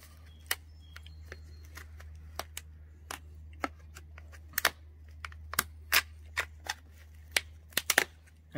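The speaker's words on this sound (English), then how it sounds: "we're going to actually cut a slit like this" A slit is cut into the bottom of a plastic plant container for a simple hydroponic garden, a string of crisp close snips and clicks, irregular at first and then quicker, over a low steady hum.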